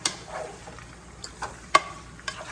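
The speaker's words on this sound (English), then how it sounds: "And then you stir a little bit more" Pork adobo with soy sauce and black pepper is stirred in a pan, making a few sparse scrapes and clinks over a faint sizzle.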